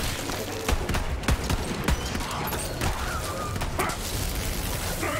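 Pistol shots crack again and again in the Borderlands 3 video game, a quick irregular string of sharp reports over dense battle noise.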